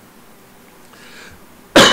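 A man coughs once, abruptly and loudly, close to the microphone, after a quiet pause during a home-recorded talk about Linux software packaging.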